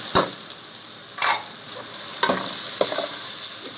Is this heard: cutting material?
no